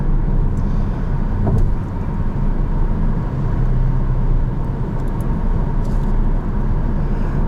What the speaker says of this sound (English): What's amazing is the 4-cylinder sounds like the 6.